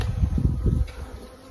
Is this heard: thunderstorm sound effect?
no